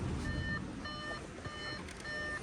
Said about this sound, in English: That beeping sound is a bit obnoxious.